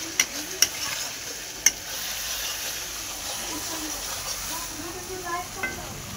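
Green chillies, dried chillies and bay leaves frying in tempering oil before chicken is added, a soft, steady sizzle with a few sharp clicks from a utensil early on and faint talk in the background.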